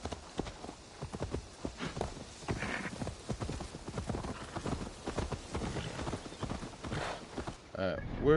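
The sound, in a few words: horse hooves clip-clop in video game Assassin's Creed Valhalla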